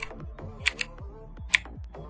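Loud computer keyboard keys clack in quick succession right at the microphone, with a few sharper, brighter hits standing out from the steady typing.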